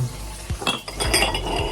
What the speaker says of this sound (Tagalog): Ang tamang paghuhugas ng mga pinggan, baso.